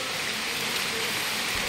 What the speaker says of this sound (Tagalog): Pero sobrang lakas ng ulan